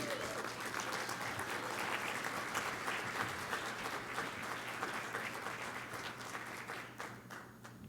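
A symposium lunch audience applauds a speaker being introduced, a sustained wash of clapping that is fairly distant and soft, easing off toward the end.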